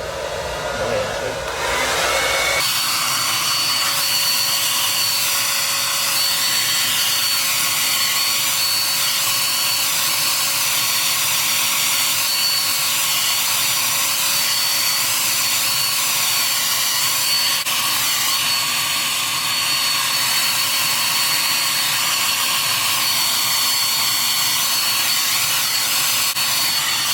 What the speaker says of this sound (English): She finna dry my locks with the blow dryer just to speed the process up